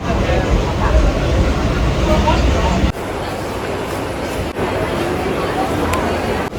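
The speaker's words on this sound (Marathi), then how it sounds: "आता मी बसलेलो आहे ट्रेन मध्ये." Steady loud rumble and rattle from inside a moving Mumbai suburban commuter train heading to Goregaon, continuous throughout with a couple of brief jolts; no clear speech stands out.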